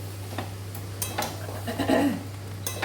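Spices and other ingredients fried together in a pan, with a low sizzle and several light metallic scrapes and taps of a spoon stirring, close by and fairly quiet, under a steady background hum.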